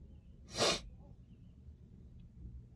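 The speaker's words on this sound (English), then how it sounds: "I'm about to sneeze." A single sharp sneeze bursts out close up, then quiet breathing and faint room noise.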